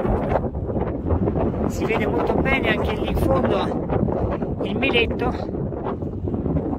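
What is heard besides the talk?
wind blowing on a mountain plateau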